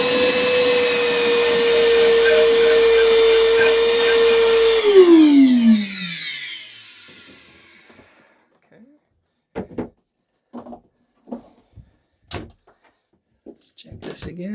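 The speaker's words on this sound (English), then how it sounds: "So I'm just going to suck the water out" A shop vac sucks water out of a boat, roaring with a steady high whine for about five seconds before its motor winds down, followed by quiet, scattered clunks and handling knocks.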